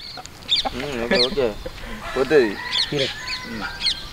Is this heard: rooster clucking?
yes